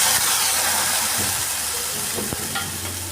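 Steady loud sizzling and hissing of spice masala frying in hot oil for kadhi, with faint occasional stirring clinks, close up.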